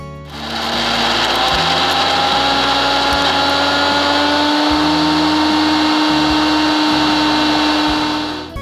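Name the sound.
mixer grinder blending chutney mixture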